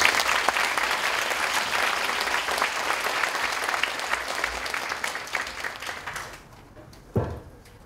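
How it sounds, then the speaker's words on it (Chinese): Warm applause from a popular-science lecture audience welcoming the speaker, a dense even clatter of clapping that gradually thins and fades, ending with a single brief thump. "让我们用热烈的掌声欢迎吕老师"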